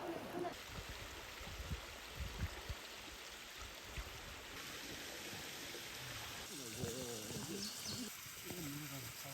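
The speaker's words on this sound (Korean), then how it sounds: "등산 시작하자마자 바로 옆에 이렇게 계곡이 흘러가지고 쫄쫄쫄 물소리 들으면서 가기 좋은 것 같아요" A mountain stream runs beside the trail at the start of a hike up Cheonjusan, giving a steady close hiss of flowing water under footsteps, with a person talking briefly near the end.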